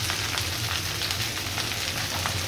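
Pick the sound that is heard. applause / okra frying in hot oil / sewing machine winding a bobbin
okra frying in hot oil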